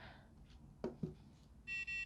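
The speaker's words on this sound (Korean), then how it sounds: "삐삐 이 소리가 나야 이 명령어가 잘 입력이 된 거예요" A coding robot confirms an entered command with two quick electronic beeps near the end, after a few soft bumps and clicks.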